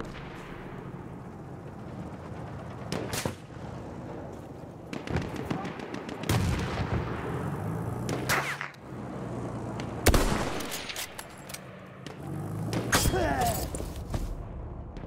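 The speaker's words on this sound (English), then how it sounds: "enemy artillery barrage to stop firing" Artillery barrage in Battlefield 1, a string of heavy booming blasts and sharp impacts at irregular intervals, some near and loud, others more distant, over a continuous battlefield rumble.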